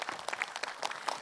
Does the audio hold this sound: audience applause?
yes